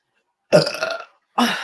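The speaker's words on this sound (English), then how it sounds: "Hang on, I'm gonna burp." Two loud, close burps from a person, a longer rumbling one followed after a short pause by a second, with silence around them.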